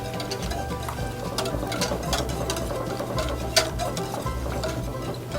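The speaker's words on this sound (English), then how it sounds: "Now we're gonna give that a little whisk." Grits and salt whisked in a pot on the stove, a steady soft scraping and ticking rhythm that runs throughout, with a low hum beneath and one brief sharper clink near the end.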